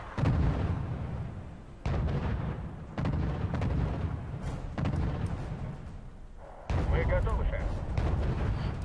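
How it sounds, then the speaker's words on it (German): Artillery fire in the Cold War real-time strategy game Wargame: European Escalation, a run of heavy booming impacts in close succession, loud and rumbling, with someone speaking German over the barrage. "Oh, Artillerie."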